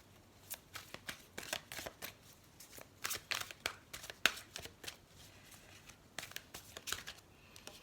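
A deck of tarot cards shuffled by hand, quiet riffling bursts and crisp flicks repeating in an irregular rhythm, close and alone with no talk.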